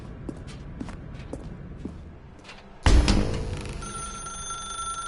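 In a video game set in a dark room, a few soft footsteps lead to a sudden thud, then a telephone bell starts ringing loudly and keeps ringing to the end.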